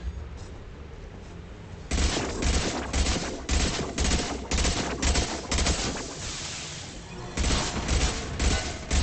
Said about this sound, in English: Why are you shooting crates when I'm right here?